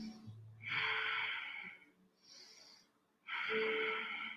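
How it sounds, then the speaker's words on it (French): Slow, deep belly breaths during a yoga back-care session, each inhale and exhale a soft airy rush, two full breath cycles close to the microphone with short quiet gaps between them. "On respire ici par le ventre."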